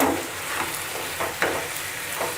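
Chicken gravy masala with chilies fries in a pan with a continuous moderate sizzle, broken by a few soft stirring scrapes, and no talking.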